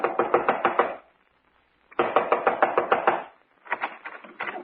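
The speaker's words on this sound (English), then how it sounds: "Within 15 minutes, I was knocking on his front door." Knuckles rapping on a wooden front door in a 1953 radio drama: three bursts of quick, firm knocks separated by short pauses, close and clear with no talk.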